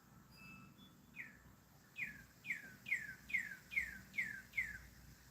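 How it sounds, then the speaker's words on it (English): Several bright, repeated bird chirps ring out in a steady rhythm over quiet outdoor background hiss, fairly close and clear. "Can you hear those birds?"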